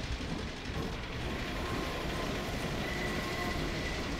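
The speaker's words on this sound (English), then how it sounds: "Oh, there's a train." A train rumbles past in the Half-Life 2 video game, a steady, dense roar with faint rail clatter and squeal that holds for several seconds with no talk.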